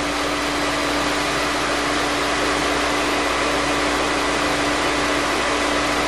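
A lathe machines a step into a Fiat 600 flywheel, cutting about a millimetre and a half so it fits an 850 engine; a steady, loud, unbroken whirring and hissing runs close throughout with no talk.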